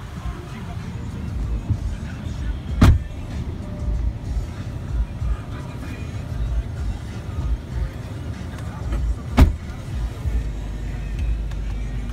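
A 2010 Dodge Ram 1500 crew cab 4x4 with a 4.7 V8 drives on a test ride, a steady low cabin rumble with road noise and two sharp clicks, under occasional talk.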